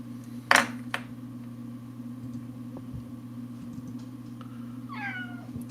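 A pet cat meows, with one sharp loud cry near the start, a second shorter call just after, and a rising-falling meow near the end over a steady background hum.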